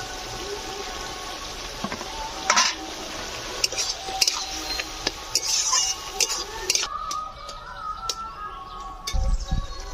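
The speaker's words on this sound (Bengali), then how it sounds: "এবার আমি চিংড়িটা ফেলে দেবো, চিংড়িটা ফেলে দিচ্ছি।" Prawns dropped into a pot of boiled potato and bottle gourd, giving soft wet plops and squishes, with spoon clinks and stirring around them and a few louder knocks against the pot.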